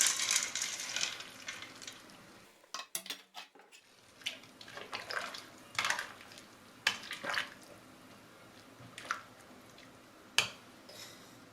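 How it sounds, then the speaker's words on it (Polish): Vegetables and dried peas tipped into a pot of just-boiling broth for Polish pea soup, with scattered close clatters, soft splashes and pot knocks over a quiet kitchen background. "Wywar się właśnie zaczął gotować. Wrzucam teraz warzywa oraz groch."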